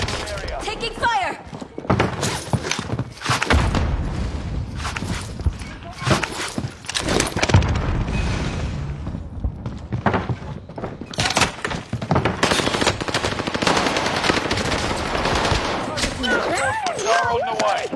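Gunfire in a first-person shooter video game, with dense bursts of shots and thuds throughout amid game effects, while voices call out over the action.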